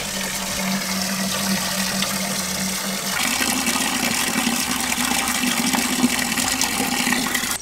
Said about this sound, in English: So this one's just going to be filled with just straight water.